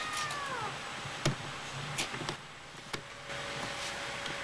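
A house cat meows a few times indoors, faint and fairly distant, with short high cries standing out over quiet room noise and a brief whine early on.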